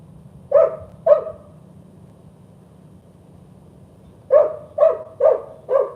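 A single dog barks nearby, two sharp barks followed by a pause and then four more in a steady rhythm, loud and clear over a quiet indoor hum.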